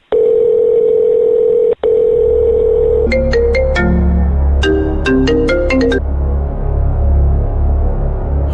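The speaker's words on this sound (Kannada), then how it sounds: "ಅಣ್ಣ ಫೋನ್ ಬರ್ತಾ ಇದೆ ಅಣ್ಣ." A mobile phone ringtone in a Kannada crime thriller film: a loud, steady electronic tone gives way to a bright, stepping melodic tune over a low hum, with no talking.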